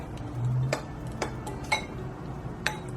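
A utensil stirring cinnamon, salt and cocoa powder in a bowl, giving a few sharp, sparse ticks and clinks against the bowl over a quiet background.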